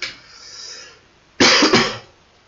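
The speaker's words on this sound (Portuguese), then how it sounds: "Essa minha tosse. Ela é só uma tosse de estar com a garganta seca" A single sharp, loud cough from a dry throat bursting out after a short breathy exhale, close up, with a quick second push at the end.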